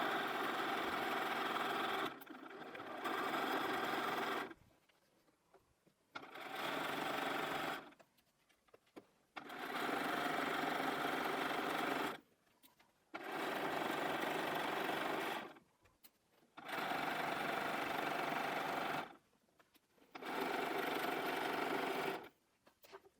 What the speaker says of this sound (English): We've now done all the machine sewing for the hat